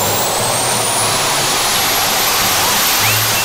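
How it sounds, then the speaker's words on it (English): A turbojet engine mounted on a children's toy roars at full throttle, a loud, steady, close-up blast of broadband rush with a faint rising whine, alone without talk. "Now the thing with a turbojet is, once you think it can't get any louder. It's loud."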